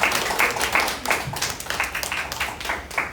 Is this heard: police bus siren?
no